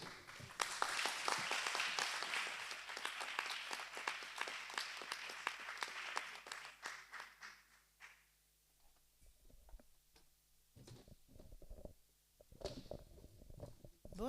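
Loud, dense applause from a church crowd fills the first half, then fades into scattered claps and quiet room noise.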